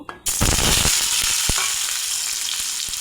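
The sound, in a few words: potatoes frying in oil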